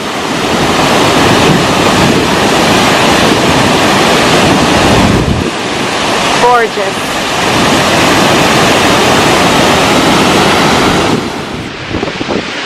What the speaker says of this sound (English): this is the biggest waterfall I've ever seen in my life